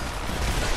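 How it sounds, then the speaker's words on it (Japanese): A loud, dense explosion from the video game Fallout 4 fills the whole brief moment with a broad, sustained roar that stays at full strength throughout. "爆発するで。"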